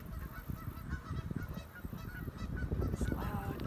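A flock of geese honks loudly and continuously, a dense chorus of overlapping calls close by with no pauses.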